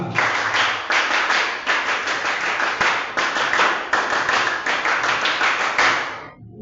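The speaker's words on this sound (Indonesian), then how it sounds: "Dua kali tepuk pramuka." Students in a classroom clap the tepuk pramuka scout rhythm twice in a row, a loud, close sequence of patterned group claps in repeating bursts that cut off at the end.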